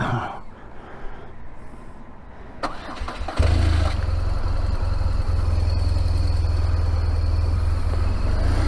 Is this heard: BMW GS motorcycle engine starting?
yes